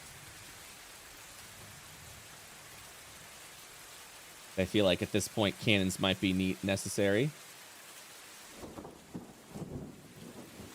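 Steady rain and storm wind wash across a ship deck in a tabletop fantasy role-play session. The hiss runs on throughout, and people talk over it for a few seconds in the middle.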